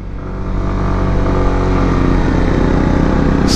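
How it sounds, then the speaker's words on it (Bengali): A motorbike engine labours loudly in second gear on a steep hill road to Sajek, a steady, strained drone with dense harmonic rumble that holds near and constant throughout with no speech. "জাস্ট নোট করেন ইঞ্জিন থেকে কি পরিমাণ সাউন্ড আসতেছে।"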